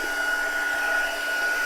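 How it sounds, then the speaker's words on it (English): A two-speed heat gun, set to low heat for embossing a Christmas card, runs with a steady, even whirring blow and a thin constant whine, close and uninterrupted. "get your heat gun up to temperature."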